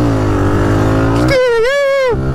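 Motorcycle engine droning steadily, then sharply revving with a rising, wavering whine held for about a second as the rider lifts into a wheelie; loud and close, no talking.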